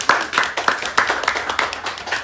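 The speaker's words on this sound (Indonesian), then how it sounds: "Tepuk tangan dong buat Surya." A small group claps during an online student engineering faculty chat, a short burst of close, fairly loud hand claps in a loose repeating rhythm.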